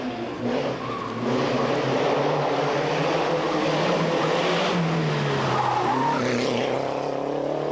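A rally car skids and leaves the road, with tires sliding and the engine roaring in one loud, sustained, close wash of noise.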